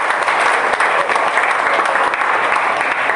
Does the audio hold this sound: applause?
yes